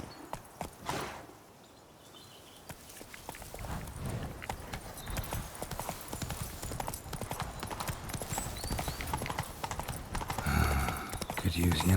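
Roach, the horse in The Witcher 3, gallops in a steady rapid clip-clop of hooves that continues throughout, with a man urging it on.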